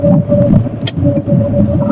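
Low, steady engine rumble of a car heard from inside with the window raised, during a night drive through dense forest, with a faint whine and a brief rattle in the middle.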